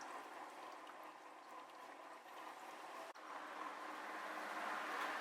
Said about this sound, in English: We're now putting some water wetter, so it's already pre-mixed with deionized water, and we're gonna fill it up